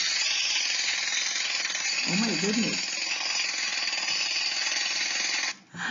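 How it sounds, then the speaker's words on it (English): A jackhammer breaks up a street, hammering continuously and loudly at close range before cutting out near the end. A voice briefly exclaims partway through. "They are using a jackhammer."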